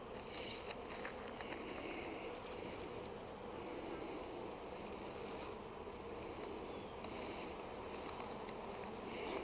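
Honeybees buzz as they flee from a fumigation mite treatment at the hive, a faint, continuous hum of many insects with light fluctuations and no voices over it.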